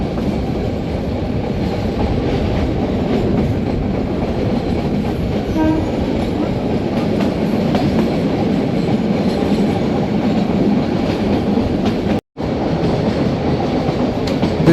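A passenger train rumbles steadily along the rails through Gir, India, with a constant heavy roar and faint clatter, close and loud, with no talking.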